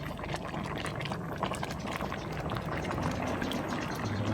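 Bamboo shoot curry being ladled into a bowl, a steady wet pouring and sloshing of thick liquid close by, continuous for a few seconds with no talk.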